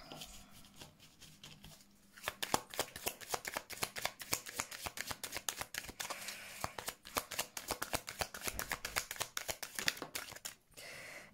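A deck of Lenormand oracle cards is riffled and shuffled close up, with a brief pause and then long runs of rapid, crisp flutters and snaps at a steady quick rhythm.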